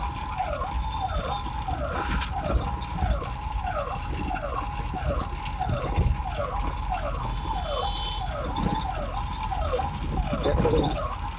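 An ambulance siren heard from inside the vehicle wails in a steady, rapid repeating cycle, muffled but continuous over low road rumble for the whole stretch.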